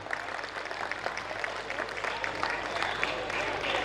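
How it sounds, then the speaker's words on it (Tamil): Audience applause at a school's 50th annual day celebration, a steady dense patter of many hands clapping filling the hall for about four seconds, with faint crowd murmur beneath. "எல்லா ஆசிரியர்களுக்கும் ஜோர ஒரு கைத்தட்டி நம்முடைய வாழ்த்துக்களை தெரிவிப்போமா?"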